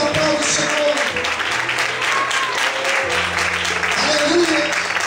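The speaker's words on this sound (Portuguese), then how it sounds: "Feche os teus olhos, aplauda o Senhor." A church congregation applauds steadily and loudly throughout, the clapping continuing under sustained low instrumental tones, with a voice briefly audible among it.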